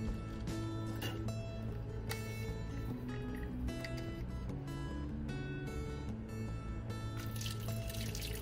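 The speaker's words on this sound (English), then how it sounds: "we're going to add some deionized water to that bottle" Deionized water pours and trickles into a bottle in a lab, a continuous splashing stream with scattered drips and clinks heard close up for several seconds.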